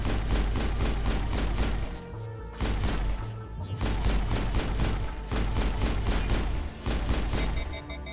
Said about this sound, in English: Let's just shoot down these barriers.